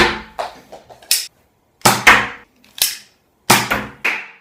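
A Nerf Jolt toy blaster is cocked and fired repeatedly, giving sharp close snapping shots and clicks in irregular pairs with brief silent gaps between them.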